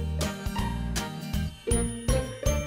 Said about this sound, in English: The bell on the bus goes ding,